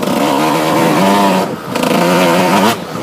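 A GasGas 125 EC enduro motorcycle rides a narrow dirt trail, its engine loud and close with a buzzing, steadily revving tone that eases briefly, then picks up again.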